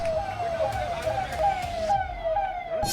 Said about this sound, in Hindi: दूसरी तरफ पुलिस की गाड़ियों का सायरन सुनाई दे रहा है